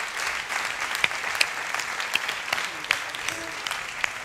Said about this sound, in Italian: Un applausone!